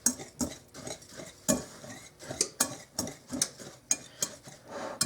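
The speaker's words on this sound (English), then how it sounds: "So we're just going to give that a little bit of a whisk just to get it mixed in together." A whisk beating baking powder and salt into dry ingredients for breakfast cookies in a bowl, making a regular series of sharp clinking taps against the bowl, close and alone with no voices.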